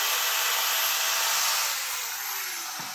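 A power grinder working a brass tail light trim ring for a 1934 Ford Coupe gives a continuous, fairly quiet, high-pitched whirring hiss that holds steady and then eases off slightly toward the end.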